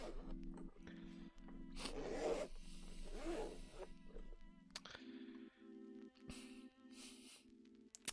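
A zipper on a prototype branded zip pouch is pulled back and forth repeatedly, close and quiet, a series of raspy buzzing runs with brief pauses between strokes.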